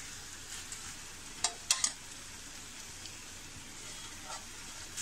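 Large marinated chicken pieces sizzle softly in a pan as they are sautéed, a faint steady fry broken by a few quick scraping stirs of the spoon.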